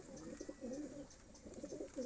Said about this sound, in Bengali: খুব চঞ্চল পায়রা।